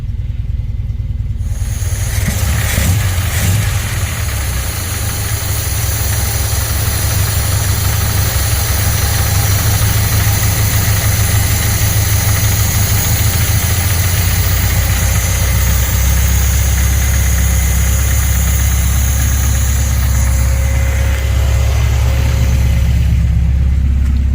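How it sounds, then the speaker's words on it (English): An MGB GT engine idles steadily after its RPM is nudged up, a close, loud, even mechanical rumble with a slight rhythmic pulse, running unbroken from a brief quiet start. "we need to go to the engine and increase the RPM slightly to bring it back up again"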